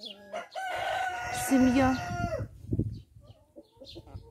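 Wheat-coloured Xin Dian hens, a green-legged breed that lays green eggs, call nearby with a drawn-out crow-like cry followed by softer clucks and low murmurs, while a person briefly speaks.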